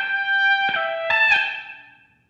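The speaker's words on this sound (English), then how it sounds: "So I sent the dry guitar, I sent it over to this reverb here." A few electric guitar notes ring out in quick succession, each leaving a smooth reverb tail from a FabFilter Pro-R plugin that gradually fades into silence.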